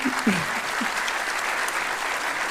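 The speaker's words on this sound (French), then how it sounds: "on peut les applaudir" Audience applause at a regional geodata conference session: steady, dense clapping throughout, with a brief voice near the start.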